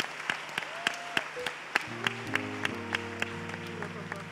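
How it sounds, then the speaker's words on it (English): Scattered hand claps from a church workshop audience on a Sunday, sparse and fairly faint, mixed with musical tones from an instrument underneath. "Let's clap our hands for all these precious people."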